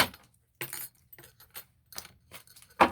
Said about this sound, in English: I think I need to shuffle another deck for you.